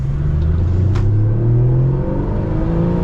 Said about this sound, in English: I've got the exhaust in the quieter setting.